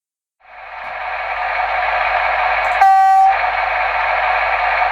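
Märklin H0 model diesel railcar running on a home layout, a steady close motor drone with a short sound-module horn blast midway through.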